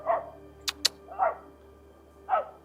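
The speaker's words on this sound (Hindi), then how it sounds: "ये कुत्ते कौन भाई?" Dogs barking in Bada Bhangal, a remote Himachal mountain village: three short, fairly distant barks spaced about a second apart, with two sharp knocks between the first pair and a low steady hum underneath.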